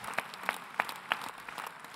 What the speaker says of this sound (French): Un tonnerre d'applaudissements pour Nathalie.